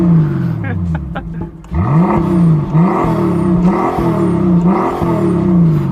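A Brabus G800 SUV engine, without a petrol particulate filter, revs up and down repeatedly nearby, its pitch sweeping up in several rising pulls with a throaty, burbling tone.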